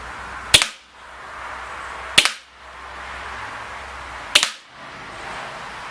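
ASG-KWA MP9 A3 gas blowback airsoft machine pistol firing three separate sharp cracks, each followed by a short hiss and a quiet pause, evenly spaced and close.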